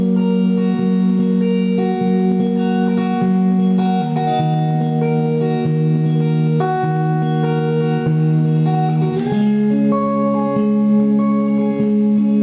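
Finger-picked guitar playing the intro of a worship song, sustained chords ringing with picked notes in a steady flowing pattern, close and clear with no voices.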